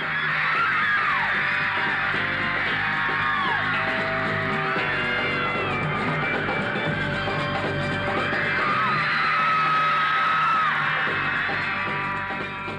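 A huge crowd of Beatles fans in New York screams continuously, a dense, loud, shrill wall of shrieking and yelling that persists without a break.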